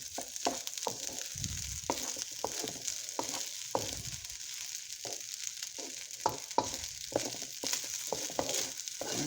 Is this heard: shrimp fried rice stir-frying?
yes